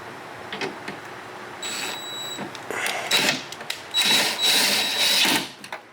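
Power window regulator motor in a 2002-2007 Honda Accord front door, whirring in several short, close runs with a high whine and brief pauses between them.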